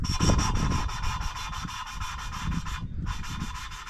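A Pinto 2.0L cylinder head valve being lapped into its seat with fine grinding paste: a rough, continuous rubbing and grinding in short back-and-forth strokes, close up and fairly quiet, with no one talking.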